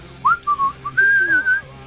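A man whistles a short, wavering tune in several breathy phrases, nearby and clear against a faint room background.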